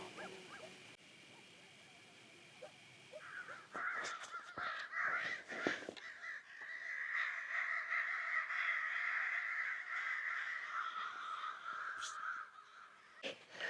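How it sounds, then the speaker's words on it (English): Several crows caw harshly in the distance over a continuous outdoor background, with calls overlapping for a few seconds as they mob an owl. "So a bunch of crows just attacked that owl."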